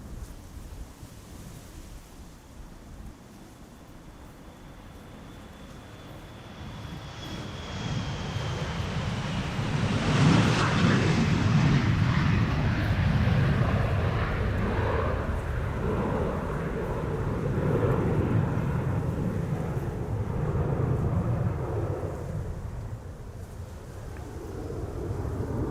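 A SunExpress airliner bound for Kayseri departs Schiphol's Polderbaan runway in rain showers, its jet roar swelling from a distant whine to a loud broad rumble, then fading slowly with wind noise.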